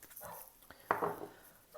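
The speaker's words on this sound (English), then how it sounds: "I don't know who he thinks he's barking at." An indoor dog gives one sharp, fairly faint bark amid quiet room noise, with a couple of softer yips around it.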